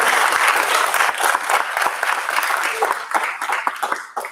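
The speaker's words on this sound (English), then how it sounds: "Let's give them a big applause." Audience applause at a Taylor Business Institute graduation ceremony, a dense steady wash of many hands clapping that stays loud and close for several seconds, with voices mixed in beneath it.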